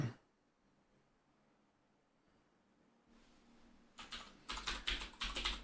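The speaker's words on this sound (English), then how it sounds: "Typing" Computer keyboard typing while coding in Python: quiet at first, then a run of rapid, fairly loud keystrokes in uneven bursts, close to the microphone, with no voices.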